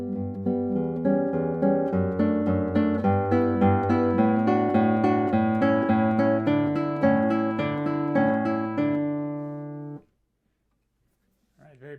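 Solo classical guitar plays measures 21–24 of Carulli's Rondo op. 241 no. 34, a steady run of plucked arpeggiated notes swelling in a strong crescendo for about ten seconds, then ringing off into silence with a faint noise at the end.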